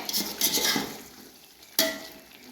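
Brinjal frying in a pan for a masala brinjal dish, with scraping stirring sounds and sizzle early on, a quieter lull, then a sudden louder burst of sizzling as the pan is stirred or uncovered.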